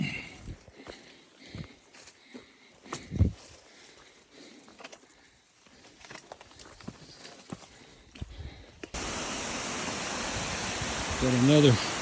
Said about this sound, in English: Got another waterfall coming down here.